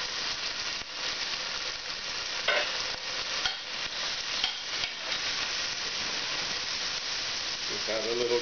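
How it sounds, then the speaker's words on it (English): Sausage sizzles steadily in a hot pan, a continuous close frying hiss with occasional stirring scrapes and pops throughout. "Gonna add my sausage."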